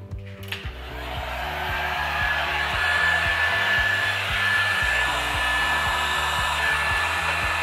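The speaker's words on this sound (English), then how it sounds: "Slide a bit of heat shrink over the top. And just heat it up and that'll be it." Heat gun shrinking heat-shrink tubing over crimped wiring on a Lambretta scooter pulley brake, a steady loud fan roar with a rhythmic motor hum running continuously after a click to start.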